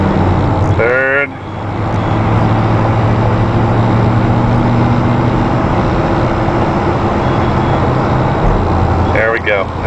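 A Ford Club Wagon van fitted with a Braun wheelchair lift runs with its engine droning steadily under a brief voice, the pitch shifting as it moves up through the gears amid road noise.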